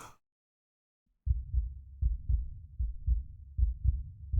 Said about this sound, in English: I can still feel my heart beating